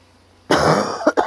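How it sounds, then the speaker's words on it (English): After a moment of quiet, a single loud, harsh cough bursts out close up, followed by two short catching coughs. "I don't know when this cough is ever going to leave me alone."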